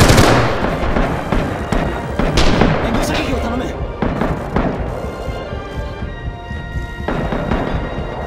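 Artillery shelling in the war game Rising Storm: heavy booming impacts and rumbling blasts, loud at first and then trailing into distant thuds, with a voice speaking over the bombardment.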